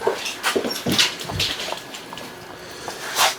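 Indoor dogs whimper and let out short yips in scattered bursts, fairly close and moderately loud, with brief quiet gaps between the whines.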